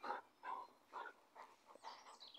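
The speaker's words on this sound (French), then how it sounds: "le chien ne se calme pas. Il a envie de jouer." A dog barks five or six times in an agitated, playful burst, the yaps close and fairly quiet, spaced evenly at about half-second intervals with a slightly higher, whinier call near the end.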